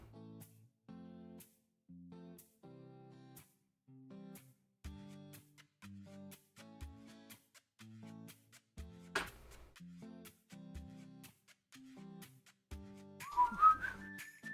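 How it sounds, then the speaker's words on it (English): Someone whistles a halting tune, short separate notes with gaps between them, faint and somewhat breathy from a dry mouth. "mouth is so dry, I can't even whistle."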